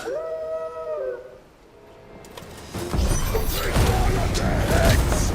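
A dog howls in the Final Fantasy XVI video game, a long wavering cry that fades out. A crashing, clattering burst of game noise follows.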